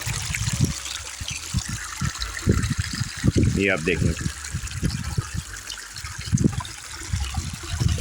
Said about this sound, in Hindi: तो ये चश्मा इस तरह काफ़ी दूर तक चलता जाता है।